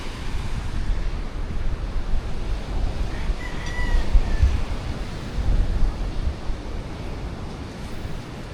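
Ocean waves surging and washing ashore, a continuous rushing roar with gentle swells, mixed with wind buffeting the microphone, no voices.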